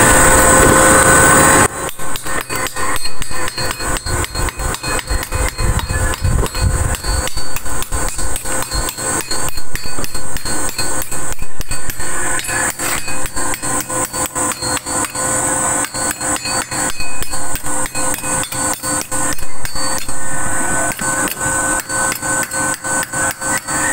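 KUSAMA 300A arc welding machine melting a rod on 1x1 steel tubular, a loud, continuous crackling buzz with dense rapid pops running throughout.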